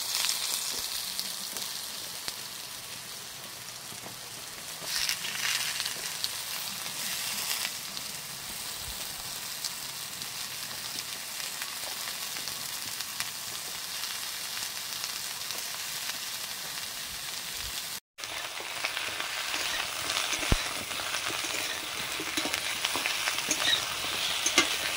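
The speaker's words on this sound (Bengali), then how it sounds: "ঝিঙে ভাজা করছি" Ridge gourd frying in a pan for a rural home meal, a steady broadband sizzle with stirring scrapes throughout, briefly cut near the end and then resuming a little brighter.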